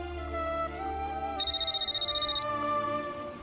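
A telephone ringing during a scene in a Hindi TV serial, an electronic ringtone with a steady high warbling tone lasting about a second over background music, fairly loud.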